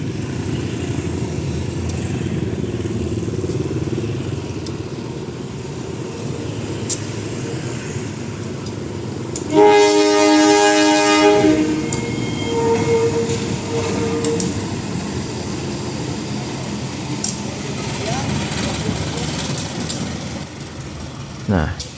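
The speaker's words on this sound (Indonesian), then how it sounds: "langsiran lokomotif ini mengambil jalur 5 ya teman-teman" Diesel locomotive shunting at Purwakarta railway station, a steady engine rumble running throughout with a brief tonal horn-like blast near the middle, while someone talks over it.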